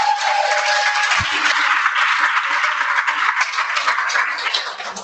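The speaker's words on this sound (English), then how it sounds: "go ahead, clap, clap, clap, clap" Applause from the audience at a GiveCamp closing ceremony, a continuous even patter of clapping at moderate distance lasting the whole stretch.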